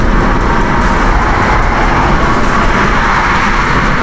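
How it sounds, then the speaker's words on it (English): A car cruises along a highway at around 50 mph, filling the cabin with a loud, constant roar of road and engine noise, and no one speaks. "I always hate highway driving."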